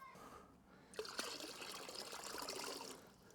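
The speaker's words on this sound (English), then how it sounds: "So I already have 8 liters of water, but there is more space. So I'm gonna pour" Water pours from a container into an SW Motech motorcycle drybag, a steady gurgling trickle that starts about a second in and runs on close and fairly quiet.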